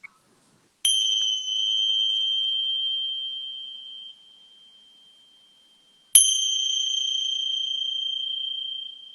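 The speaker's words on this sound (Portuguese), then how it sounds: "Receba então o som do sino." A meditation bell rings twice, each strike bright and clear with a long, slowly fading resonant tone in otherwise near silence.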